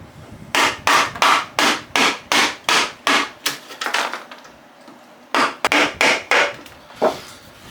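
A chisel cuts wood for a compost bin build with a steady series of about a dozen sharp, close knocks, a brief pause, then several more evenly spaced strikes.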